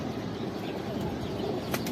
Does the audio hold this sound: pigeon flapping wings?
yes